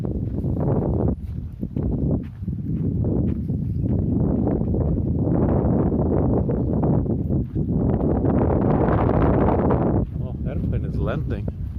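Strong, gusty wind blows outdoors on a Tokyo street and buffets the microphone in a loud, continuous low rumble, broken by a few brief lulls.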